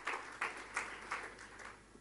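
A church congregation applauds during a sermon, with faint clapping arriving in several soft bursts at regular intervals.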